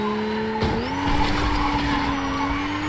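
A busted-up car in Fortnite revs and skids with squealing tires, its engine whine rising and holding loud and close for a few seconds.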